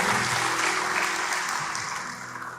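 A church congregation applauds at a worship service, a dense, steady wash of clapping that stays loud throughout and thins slightly toward the end.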